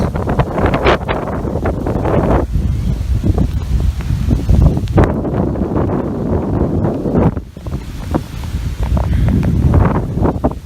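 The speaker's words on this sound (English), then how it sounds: "Neighborhood is quiet, except for the wind here. And there's some gusts." Strong Hurricane Irma wind buffets the microphone in rough, continuous gusts in a quiet neighborhood, with a brief lull before the roar picks up again.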